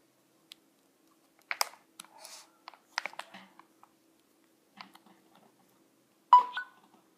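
A Samsung tablet with an Apple charging cable plugged in lets out a short electronic beep near the end, after several quiet clicks and handling taps from connecting the cable in a silent room.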